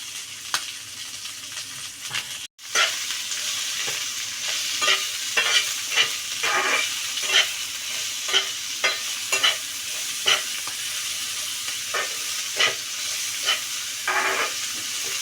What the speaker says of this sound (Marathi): आपण मिरची फ्राय करायला ठेवलेली आहे